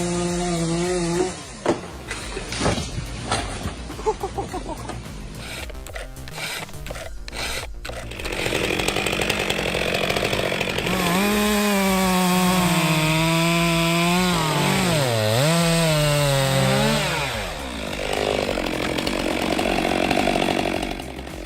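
A big chainsaw cuts into a giant tree, with a few sharp knocks first, then a loud, sustained, rasping engine whine whose pitch rises and falls as the chain bites through the wood.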